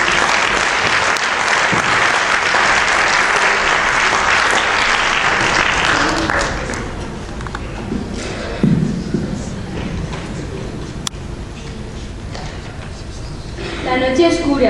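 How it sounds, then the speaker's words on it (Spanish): An audience applauds loudly and steadily for student performers at a bicentenary poetry recital, a long unbroken burst of clapping that fades out after several seconds, followed by quieter room noise, a few thumps and a brief renewed patter near the end. "Un aplauso, por favor."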